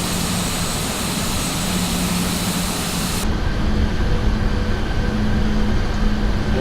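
An Airbus A320 turns in flight, its engines giving a steady, even drone throughout, with the higher hiss dropping away abruptly midway while the low hum carries on.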